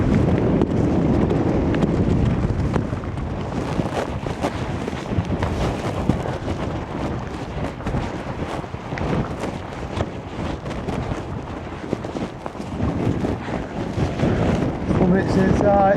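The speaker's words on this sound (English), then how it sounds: "It's a tad breezy up here today." Strong gusty wind buffeting a microphone on a Lake District fell summit near Sheffield Pike, a loud roaring rumble throughout with a voice speaking briefly over it.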